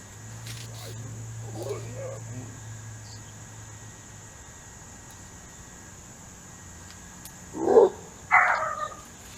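A dog barks twice in quick succession toward the end, fairly distant and sharp, after a stretch of quiet background hiss with faint indistinct voices earlier.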